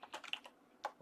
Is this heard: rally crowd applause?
no